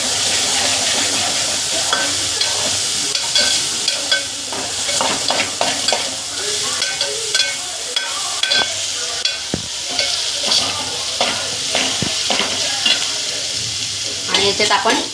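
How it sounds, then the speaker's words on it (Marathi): A spoon stirs sizzling food frying in a pan as salt goes in before minced chicken keema, with continuous loud crackle and scraping strokes close by, with no talk. "आणि हलवून घेऊया."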